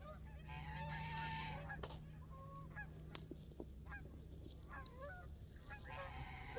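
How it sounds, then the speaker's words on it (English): Canada geese honk repeatedly as a flock passes, the calls scattered and moderately distant over a steady low background hum. "There's a flock of Canada geese going by."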